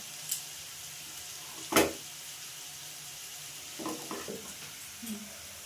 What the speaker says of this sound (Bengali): আমার মাশরুম আলু ভাজা হয়ে গেছে।